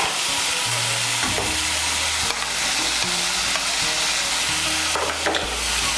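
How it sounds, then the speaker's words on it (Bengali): Fried potatoes tumble into a hot spice masala in a Bengali home kitchen, sizzling loudly and continuously while a utensil stirs and scrapes the pan in repeated strokes, with a few sharp clatters along the way. "এখন এর মধ্যে দিয়ে দেবো ভেজে রাখা আলু।"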